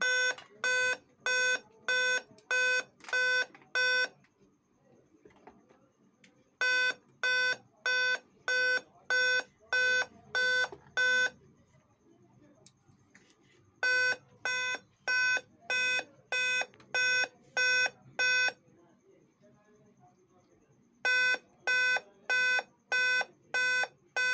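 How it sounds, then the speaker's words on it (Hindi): A Dell Vostro 3458 laptop with a power-on fault gives loud, shrill error beeps in repeated groups of eight quick tones, each group followed by a pause, with faint room noise between groups. "अभी तक इसका बीप आ रहा है"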